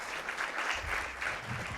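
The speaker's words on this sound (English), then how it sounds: "Let's give them a big round of applause," Audience applause at a content marketing summit and awards event, a brief steady patter of clapping from a crowd heard at moderate distance.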